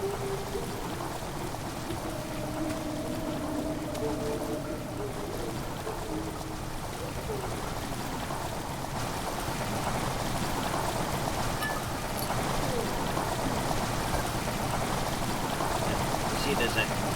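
Water rushing in within Amnesia: The Dark Descent, a steady broad wash of pouring, streaming water that stays loud and even from start to finish.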